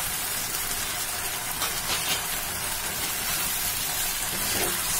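Soya chunks frying in a hot pan, a steady broad sizzling hiss that holds evenly throughout, close and continuous with no talk.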